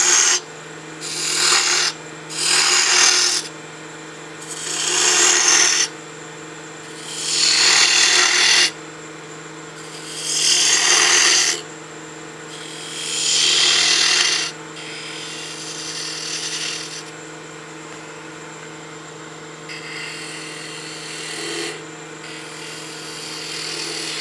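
A spindle gouge cuts wood turning on a lathe, giving repeated rasping, scraping bursts of a second or two with short pauses, over a steady motor hum, close and loud.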